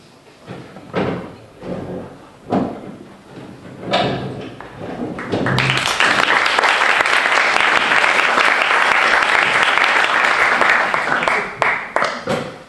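Audience applause at a public talk with a screenwriter, starting as a few scattered claps, then swelling into steady, full clapping that holds for several seconds before thinning out at the end.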